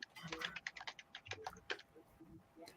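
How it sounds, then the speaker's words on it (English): Fingers type rapidly on a computer keyboard in a shop setting, a close, faint run of irregular key clicks with a low voice murmuring underneath. "Let me type it in real quick."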